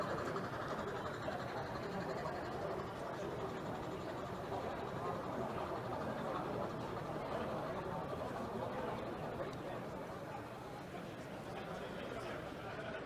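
Narrow gauge locomotive on a model railroad layout rumbling steadily along the track, a continuous mid-level mechanical clatter with faint background chatter from a crowd.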